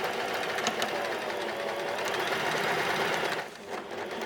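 A sewing machine runs steadily while stitching a corded buttonhole, its motor a fast, continuous whir that holds for several seconds. It stops briefly near the end, then restarts.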